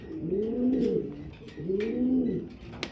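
Two clear rounds of pigeon cooing at a pigeon farm, close and fairly soft, each a low rolling call lasting about a second with a short gap between.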